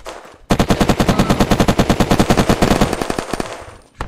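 Rapid automatic gunfire from a Cobra gun in the survival game Unturned, a dense rattling burst of about thirty shots lasting over three seconds, loud and close, then a single trailing hit.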